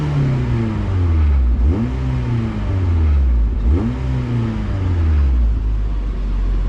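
A car with a B18B1 engine and no exhaust leak idles steadily, then revs up sharply twice, each rise and fall loud and close over the continuous engine rumble.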